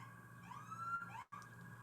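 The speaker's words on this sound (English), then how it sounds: "I live next to a busy street and there's an ambulance coming through." An ambulance siren on a busy street, its wailing tone rising and falling at moderate distance over steady traffic rumble, with a brief dropout partway through.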